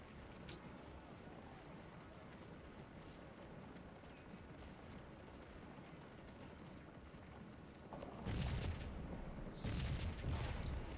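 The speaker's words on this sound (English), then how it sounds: "Although I don't think anyone's going to be sleeping that much with all this cannon going off" Distant cannon fire rumbles through a Scourge of War battlefield, a steady low background roar broken near the end by two heavier, louder booms in quick succession.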